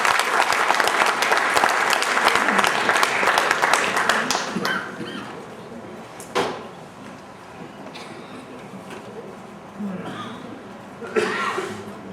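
Dense applause from an audience at a mushaira, an Urdu poetry gathering of an alumni association, fills the first few seconds, then thins into scattered claps and brief bursts of murmured appreciation.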